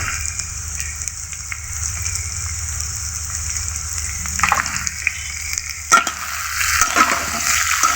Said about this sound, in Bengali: খুন্নির সাহায্যে এভাবে দুই মিনিট কাঁকরোলটাকে ভালোভাবে নেড়ে নিতে হবে